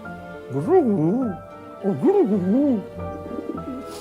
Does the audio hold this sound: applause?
no